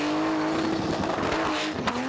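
At a Summernats burnout competition in Western Australia, a car holds a high-revving burnout, its engine screaming at a constant pitch while the tires squeal and howl loudly throughout, with no voices.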